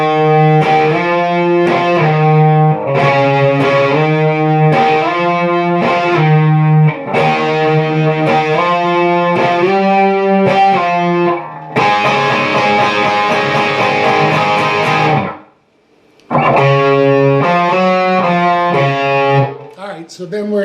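A distorted electric guitar plays the octave-based refrain of a song in a repeating rhythmic pattern, loud and close, with one sustained chord ringing out before a brief gap and the riff resuming.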